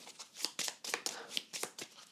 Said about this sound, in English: I'm actually going to shuffle those back into my deck